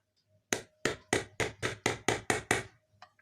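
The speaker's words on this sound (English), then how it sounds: "Just push this gently and then tap it lightly with a hammer." Eight crisp, evenly spaced metallic taps from a hammer lightly driving a fitting into a jar during a leaky, noisy jar repair; close, sharp strikes with brief decays, alone in a quiet room.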